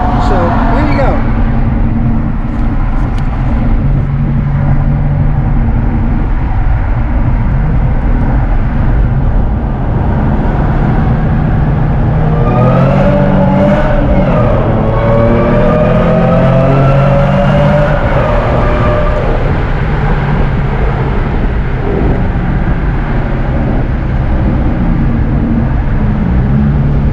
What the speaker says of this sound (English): I've owned this car since 2003, and most of that time it's had a supercharger